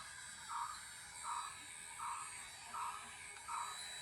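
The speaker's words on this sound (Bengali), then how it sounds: "এটা হচ্ছে পাখা," A small electric hand fan gives a faint, steady buzz that swells in regular pulses about every three-quarters of a second, heard alone in a quiet room.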